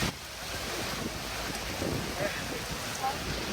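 Heavy rain pours down outdoors in Chiapas, Mexico, with a loud, constant hissing wash and gusty wind noise buffeting the microphone, and street water running like a river beneath it.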